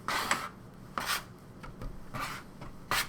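A dough scraper works basic pasta dough on a board, giving a few rhythmic soft scraping strokes, close and fairly quiet.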